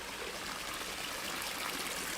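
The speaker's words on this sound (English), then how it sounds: "No, it's the sound of the water." Water trickles and babbles steadily in a small city stream in Tokyo on an early morning, a soft, even, continuous flow with no voices.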